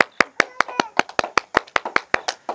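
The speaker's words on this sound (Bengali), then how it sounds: "মানুষ জন্য এটা জোরে হাততালি" Brisk applause for a contestant in a blindfolded balloon-popping game: about a dozen sharp hand claps in quick, slightly uneven rhythm, close and clear.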